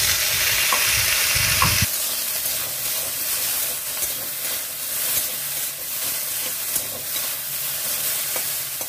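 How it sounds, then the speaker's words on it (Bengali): Okra fried with a little oil in a hot kadai gives a steady close hiss and sizzle, with a louder burst of stirring and scraping at the start and faint spatula clicks scattered through, no voices. "এরপর সামান্য একটু তেল দিয়ে ভেন্ডিগুলো ফ্রাই করে নেব"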